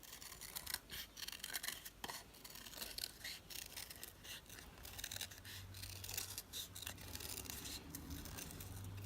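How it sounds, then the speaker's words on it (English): Scissors snip through red card stock in a tightening spiral, a steady run of close, crisp cuts and rustling paper for a handmade princess shadow box card, with a low hum underneath. "I am just going to cut that in a ever decreasing circle"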